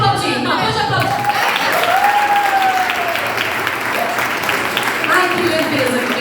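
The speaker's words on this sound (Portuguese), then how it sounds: "Pode aplaudir, não, pode aplaudir." Audience applause fills a church conference hall, a loud, steady wash of clapping lasting several seconds, with voices and cheers mixed in.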